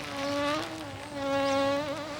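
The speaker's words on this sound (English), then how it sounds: "That's only a bee." A bee buzzes close by in a steady, wavering drone that rises and dips in pitch, heard alone without voices.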